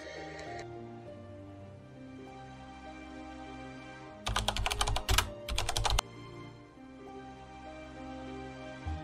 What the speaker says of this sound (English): Open your terminal and type pip3 install request Folium.